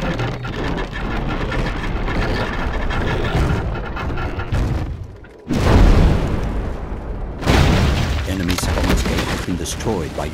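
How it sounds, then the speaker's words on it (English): A battering ram smashes through a gate in the Rome: Total War game, heavy booming crashes and rumbling debris loud amid battle noise, with a brief near-silent gap before a big impact. "Destroyed by your battering ram."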